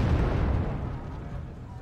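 Bombs exploding in Wargame AirLand Battle, a loud rumbling blast that rolls and fades over about two seconds.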